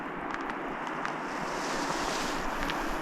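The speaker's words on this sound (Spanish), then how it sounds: "Por ahí abajo pasa el río, que se está escuchando desde ahí" A broad, steady wash of rushing water from a river below a mountain route near the abandoned village of Sacedoncillo, Spain, continuous and moderately loud, with some wind noise over the microphone.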